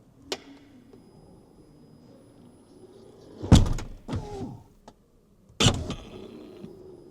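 A Tesla Model X door-opening motor clunks and whirs in a few sharp bursts, with motorized movement between them, fairly close and otherwise quiet.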